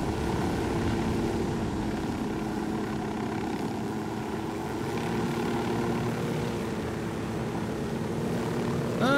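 A helicopter flies in the video game Ghost Recon Wildlands, its steady rotor and engine drone holding at a constant, fairly loud level throughout with no talk over it.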